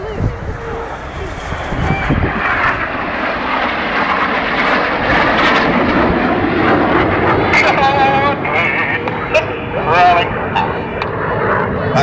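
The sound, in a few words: Red Arrows jets flying close formation at airshow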